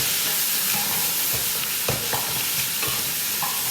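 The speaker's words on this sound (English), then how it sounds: "Can you hear it sizzling?" Pheasant thigh and breast sizzle in a pan with steady, close frying hiss throughout, broken by a few crackles and pops, with no voices.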